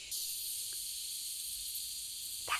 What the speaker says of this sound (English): Health Aid Kombucha sizzles until it fizzles.